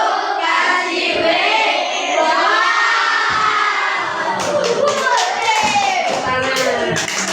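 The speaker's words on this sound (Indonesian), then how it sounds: "Kita kasih tepuk wow." A classroom group of children loudly chants a rhythmic clap routine in unison, with shouting voices throughout and sharp hand claps breaking through toward the end.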